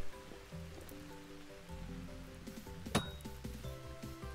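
Rain patters softly in the survival game Vintage Story, a faint steady hiss with scattered light drips and clinks, plus a brief sharper knock near the middle and low tonal hum underneath.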